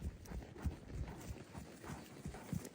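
Hooves of a herd of about twenty horses moving together, a steady jumble of clip-clop thuds close by, continuous and uneven across the whole stretch.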